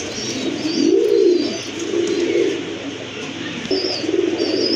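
A pair of colourful pigeons with mostly white bodies coo in low, rolling calls, repeated steadily and close by, with faint chirps in the background.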